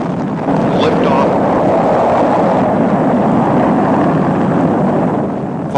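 A Kistler reusable launch vehicle lifts off vertically with a dense, steady rumbling roar that holds loud throughout.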